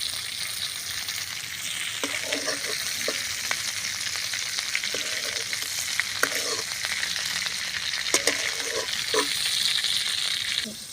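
Prawns frying in a pan until red, with a loud, dense sizzle that runs throughout and brief scraping stirs recurring every couple of seconds, close up and without talk.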